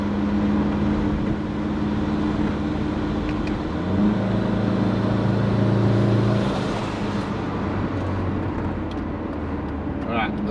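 Big-turbo Subaru engine droning loudly inside the car, its tone rising and falling as it revs and builds boost, with a steady low rumble and road noise throughout.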